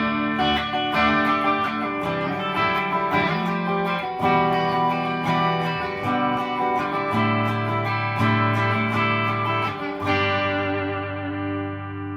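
An electric guitar on a Fender Mod Shop Strat plays a lead line through its bridge humbucker with a distorted, effects-laden tone, sustained notes and phrase changes ringing out loud and alone.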